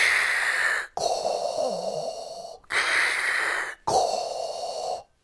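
Four long, heavy breaths alternate in and out, with a raspy, mechanical hiss imitating a masked villain's respirator, close and steady.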